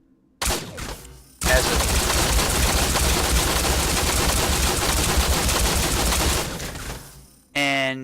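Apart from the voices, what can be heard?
Gatling laser firing in the video game Revulsion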